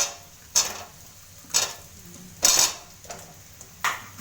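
Spatula scrapes and knocks against a pan of fried chicken and potatoes with ginger and garlic, being stirred for biryani: five sharp, evenly spaced strokes over about four seconds, close and fairly quiet, with no talking.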